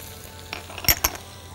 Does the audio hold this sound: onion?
yes